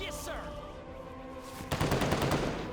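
Machine gun fire in the video game Call to Arms: a talking voice comes first, then a loud, dense clatter of rapid automatic shots breaks in and keeps going to the end.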